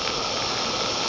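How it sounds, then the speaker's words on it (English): A live steam locomotive with its regulator opened slightly clears cold water from its pipes and cylinders, giving a loud, continuous close-up hiss of escaping steam that stays steady throughout. "clears the pipes and cylinders"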